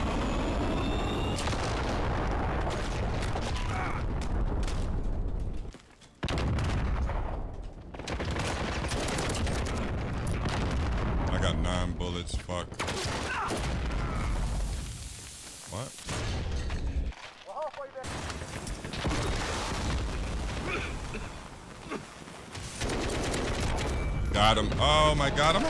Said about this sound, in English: Calling in the cruise missile.